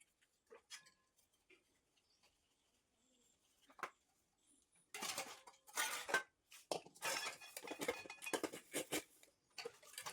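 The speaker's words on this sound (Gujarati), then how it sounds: "તો ચાલો હવે વાસણ ધોઈ કાઢું" Dishes are washed by hand at home. Sparse clinks give way after a few seconds to loud, busy clattering of utensils and splashing running water, with occasional faint bird chirps in the background.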